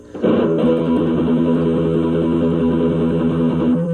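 A sustained electric guitar tone rings out after a sharp attack, a fast shimmering tremolo-picked run of open notes holding steady and loud.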